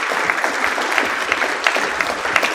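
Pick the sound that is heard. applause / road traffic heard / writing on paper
applause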